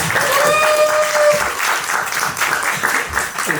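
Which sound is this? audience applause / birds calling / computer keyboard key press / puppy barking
audience applause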